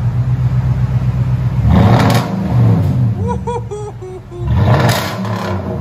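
A 2017 Toyota Tundra 5.7L V8 with true dual exhaust and a Flowmaster muffler revs up loudly twice, its deep rumble swelling and falling between the bursts, with voices heard in between.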